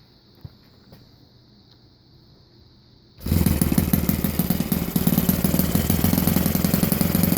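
Saito 82 four-stroke model airplane engine on ignition, running on four-stroke fuel with 12.5% Klotz oil and no nitro: quiet ticking for a few seconds, then it fires and runs loud and steady with a rapid buzzing rasp, close by.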